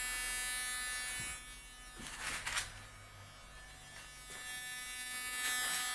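A harsh, continuous buzzing tone from a parametric speaker, heard as a reflection, with a dense band of high harmonics, steady with slight swells in loudness.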